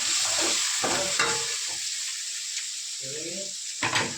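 Vegetable curry stirred and fried in a pan gives a steady sizzle with scraping stirs. Someone talks in short bursts over the cooking throughout.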